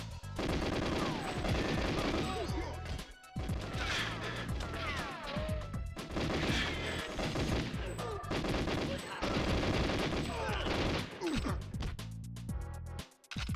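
Rapid automatic gunfire in GoldenEye 007 on the Nintendo 64, dense sustained bursts with brief pauses and scattered impact and shattering sounds throughout.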